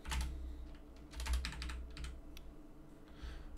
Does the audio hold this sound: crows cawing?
no